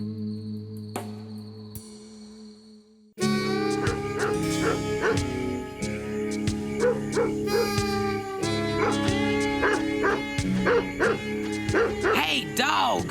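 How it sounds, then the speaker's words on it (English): A cartoon dog barks and yips in a quick, loud string of repeated bursts, with other cartoon sounds and voices mixed in. "Hey, dog! Quiet!"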